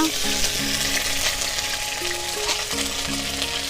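Ginger paste hitting hot oil in a pan for a brinjal and hilsa fish curry, giving a loud, steady, close sizzle that holds evenly throughout with faint stirring underneath.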